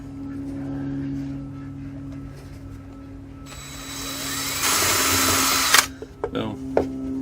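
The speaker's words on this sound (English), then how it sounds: "I'm going to drill it through right about," A small drill bit bores through a gourd in one close, loud burst of whining after a stretch of background noise, ending abruptly with a few clunks.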